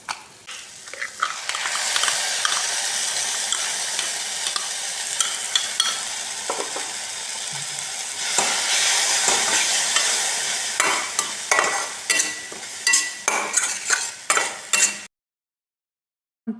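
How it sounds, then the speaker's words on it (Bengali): Spice paste for a cauliflower and sunflower seed curry frying in a pan while a spoon stirs it nonstop, a loud continuous sizzle broken by scraping strokes, ending in a few sharp scrapes before silence. "আবার ভাজবো এবং মশলাটা ভালো করে কষাবো, কারণ এটার উপরেই তরকারির মজাটা হয়"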